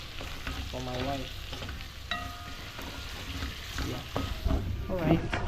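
Honey glazed oxtail frying and being stirred in a pan, a steady sizzle with scraping stir sounds, while a person talks over it.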